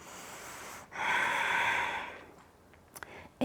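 A person breathes during yoga practice: a quiet exhale, then a longer, louder breath of about a second, close and alone, followed by a few faint soft sounds.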